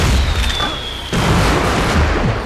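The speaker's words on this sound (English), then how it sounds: "Wow, you added some fire effects. And some firework." Booming video game firework explosions crackle loudly, with a whistling streak before them and a dense rumble of pops continuing afterward.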